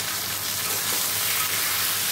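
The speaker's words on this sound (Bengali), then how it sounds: "কড়াইতে তেল দিয়ে দিলাম, এবার এই মাছে নুন হলুদ মেখে রেখেছি, মাছগুলো ভেজে নেবো।" Fish rubbed with salt and turmeric fries in oil in a wok, giving a steady, loud, broadband sizzle that holds evenly from start to finish with no talking.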